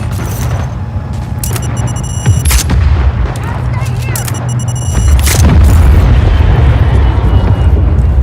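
Loud video game gunfire and booming blasts in Just Cause 4, repeated heavy shots and explosions in close succession throughout, with a voice talking over the combat.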